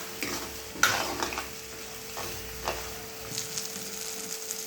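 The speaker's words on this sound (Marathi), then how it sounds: "हा मसाला चांगला खमंग वास येईपर्यंत भाजायचा" Tomato-based masala for kadai paneer fries in a kadhai with a soft, steady sizzle, broken by scraping strokes of a spoon and one sharp metallic clink, close and fairly quiet.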